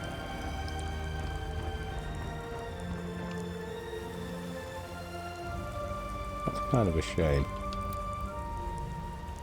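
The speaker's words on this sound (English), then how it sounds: "Raining. We should let it rain." Steady rain hiss from a Skyrim game world, spreading broadly and continuously under a man's speech, with a couple of brief louder patters near the end.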